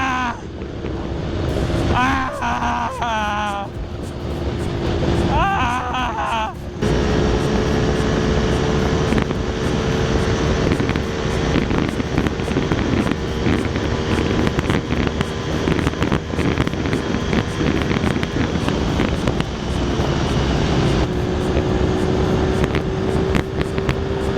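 A GPR250 motorcycle running flat out in fifth gear on a road in Bukidnon: a sustained high engine drone with strong wind roar. A few rising engine notes come early, then a long, steady pitch that holds close and loud.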